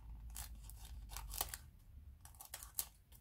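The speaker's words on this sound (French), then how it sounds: "Je prends mon ciseau" Scissors snip repeatedly through a small plastic bead bag, a series of crisp close-up cuts and crinkles in an otherwise quiet room.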